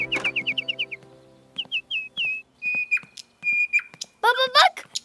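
A nightingale sings in a cartoon: bright, whistled chirps come in a quick run of repeated notes, then longer sliding whistles and a final warbling trill, close and clear over silence.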